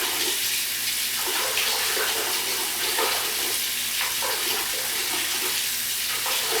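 Water runs continuously from a tap into a basin, a steady rushing hiss that barely changes over several seconds, with no talking.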